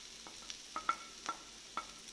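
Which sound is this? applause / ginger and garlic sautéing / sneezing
ginger and garlic sautéing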